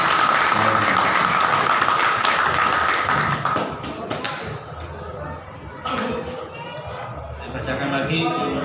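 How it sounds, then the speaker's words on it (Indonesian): An audience at a formal declaration ceremony claps in a dense burst of applause that gradually thins into scattered claps, with voices talking over parts of it. "Boleh tepuk tangannya"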